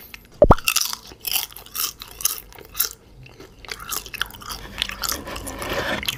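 Crispy deep-fried jackfruit leaves bitten and chewed up close: a sharp crunch at the first bite, then steady, brittle crackling chews that gradually soften.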